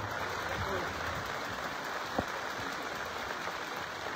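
Sustained applause from a crowd at a church ceremony forms a steady, dense clatter, with a faint voice briefly audible beneath it.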